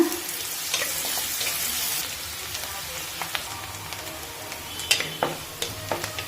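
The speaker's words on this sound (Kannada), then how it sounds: "ಈಗ ಈರುಳ್ಳಿ ಹಾಕ್ತಾ ಇದ್ದೀನಿ. ಫ್ರೈ ಮಾಡೋಣ." Onions dropped into hot oil with garlic for a Karnataka bassaru, a bright hiss of frying at first that settles into a softer sizzle with a few close clinks and scrapes of a spoon in the pan.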